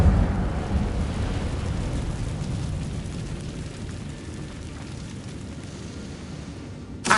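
An Incendio fire spell cast in Hogwarts Legacy, a loud burst of roaring, crackling flame with a low rumble that holds steady for several seconds before easing off, with a short sharp flare at the end and no talk.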